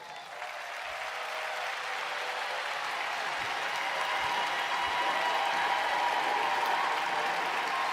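Sustained applause from a convention crowd honoring military members and veterans, a steady dense wash of clapping that holds at an even level for the full length with no voices breaking through.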